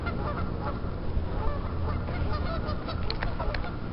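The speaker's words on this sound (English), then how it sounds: "watch the geese and hope they don't bite me" A flock of geese honking continuously, a dense, loud chorus of overlapping calls from many birds close by.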